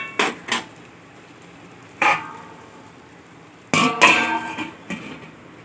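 Metal lid set onto a cooking pot of yam curry, sharp clanks and rattles in separate bursts, close and fairly loud, with a longer scraping settle near the end and quiet gaps between.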